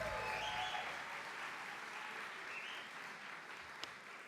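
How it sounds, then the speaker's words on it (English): Graduation ceremony audience applauding, a dense wash of clapping from a distant crowd that holds steady and then slowly fades. "How about another round of applause for Bill Thompson right there?"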